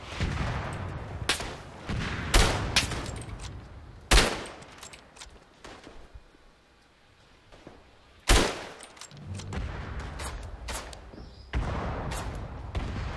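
Gunfire in the Tannenberg video game, a First World War shooter, with irregular rifle shots and bursts at varying distances, several loud close cracks and booms over a low battlefield rumble, with no talking.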